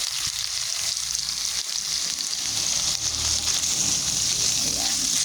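Chicken pieces sizzle and fry steadily in a hot pan, a dense continuous crackle with bubbling oil, close and fairly loud throughout with no pauses.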